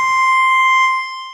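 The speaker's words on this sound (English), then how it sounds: "Oh, there's the alarm." An alarm goes off with a steady electronic tone that rings loudly and evenly from start to finish, fading slightly at the very end, with no talking over it.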